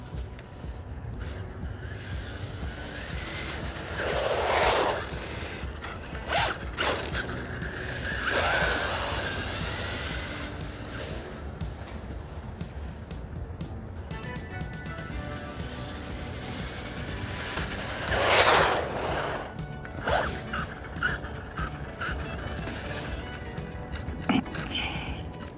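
A Stinger RC car with a small brushed motor on a 3S battery whines and buzzes in bursts as it speeds around, with louder passes and a person talking between the runs.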